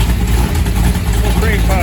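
A Mopar 400 big block V8 with Edelbrock E-Street heads and a stock crank, running steadily with a loud, deep rumbling idle close by; no distinct cranking is evident.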